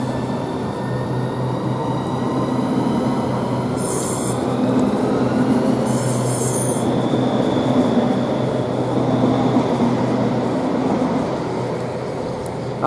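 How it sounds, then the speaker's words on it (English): A Southeastern train pulling out of Rochester railway station: steady, loud rumble of carriages rolling past, with a low motor hum and two brief high wheel squeals. "And we'll get more of this train when it actually departs."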